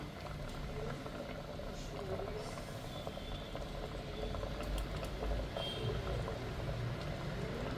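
Prawn curry with jackfruit seeds, drumstick and raw mango boiling in a pot, a steady close bubbling hiss with low rumble, continuous and even throughout, a voice faintly present.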